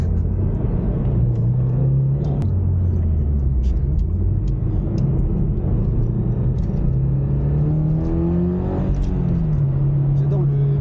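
A Toyota GR86 sports car engine hums steadily from the cabin, with its pitch rising and falling as it revs up through the gears, while people talk over it throughout.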